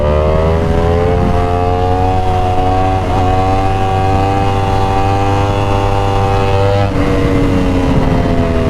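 A Yamaha R1 sport motorcycle engine revs hard as the rider accelerates for a wheelie, a loud, close, rising howl that climbs steadily, dips briefly at a gear change, then pulls up again; no talking.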